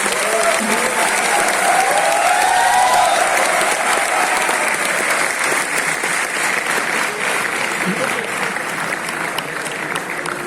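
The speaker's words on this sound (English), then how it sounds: "Let's welcome him on the stage with a huge round of applause as he comes to us." An audience at the IIT Delhi E-Summit 2024 welcomes Nitin Gadkari onto the stage with sustained, dense applause, loud and even throughout, with scattered cheers and murmurs in the hall.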